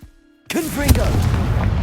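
A Confringo blasting spell explosion in Hogwarts Legacy, a single sudden boom after near silence, followed by crackling debris and a lingering rumble while a voice sounds briefly.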